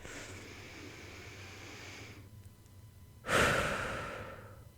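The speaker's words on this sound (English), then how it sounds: "Let's take a deep breath together." A deep breath drawn in slowly and held, then a loud, rushing exhale close to the microphone, with no talking over it.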